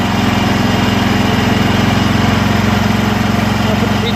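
Troy-Bilt Suburban riding mower with a 14 HP Kohler Command engine running steadily, a loud, close, even engine drone with a throbbing low pulse and no pauses.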